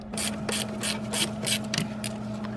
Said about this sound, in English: the next thing you're gonna remove is this torque screw right here. The torque screw is a T25